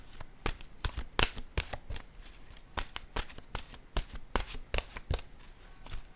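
Tarot cards are shuffled by hand in quick, crisp riffling bursts, close and fairly quiet, repeating irregularly and heard alone without any talk.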